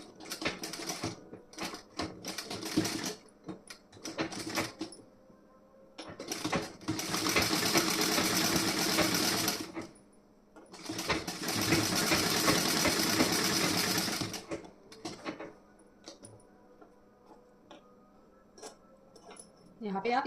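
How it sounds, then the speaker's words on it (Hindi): A sewing machine stitches the front part of a blouse in two sustained runs of several seconds each, framed by quieter stretches of handling clicks and a voice speaking. "यहाँ पे सिलाई लगा देनी है हमें।"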